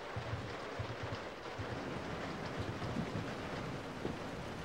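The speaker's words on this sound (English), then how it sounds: "I love the sound of rain when you're inside of a car, inside of a house." Steady rain heard from indoors in The Last of Us video game, a dense continuous hiss with a low rumble underneath, constant and fairly quiet, with no voices.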